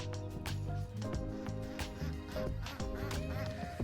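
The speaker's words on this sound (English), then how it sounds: "these ducks are going crazy" Ducks kept beside a new driveway quack and honk loudly and insistently, several birds overlapping in a dense, agitated chorus close to the microphone.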